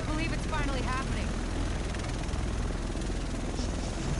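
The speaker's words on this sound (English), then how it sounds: "The rest of us should be in this chopper." A helicopter arrives in The Division, a steady broadband rotor and engine roar that fills the whole clip at close range, with a voice speaking briefly over it near the start.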